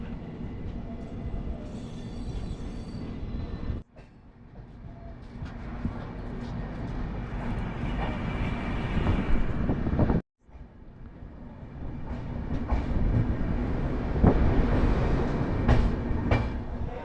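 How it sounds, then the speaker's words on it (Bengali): The Mithila Express rumbles into Raxaul station with loud, steady rolling noise and wheel clatter, occasional squeals, and two brief dropouts along the way. "এই মিথিলা এক্সপ্রেস তার গন্তব্য রক্সলে প্রবেশ করতে চলেছে।"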